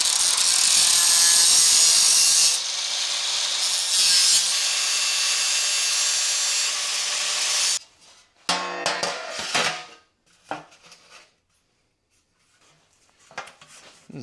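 Power tool cutting through metal dash mounting tabs during custom dash bracing work, a loud continuous grinding-saw whine for about eight seconds, then stopping and giving way to scattered clanks and handling noises.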